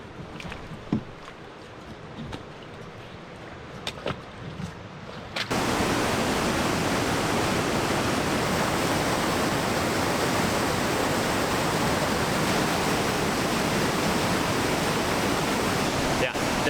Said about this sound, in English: in the middle of those 2 rapids is a good sized waterfall